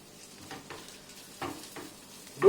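Onions roast in a pan for a burger with soft, intermittent sizzling and a few quiet stirring scrapes, ending in a louder clatter.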